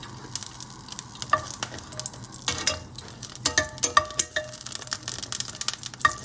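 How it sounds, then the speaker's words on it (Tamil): Four dried red chillies frying in hot oil for a tomato garlic chutney, a loud close crackle of popping and spitting oil with uneven bursts throughout. "எண்ணெய் கொஞ்சம் சூடேறவும் காரத்துக்கு வந்து 4 காஞ்ச மிளகா போடுறேன்"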